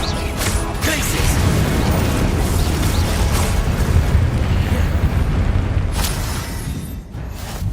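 A Glacius ice spell goes off in Hogwarts Legacy, a dense rumbling burst with crackling texture that holds loud for several seconds before tapering, with a sharper crack near the end.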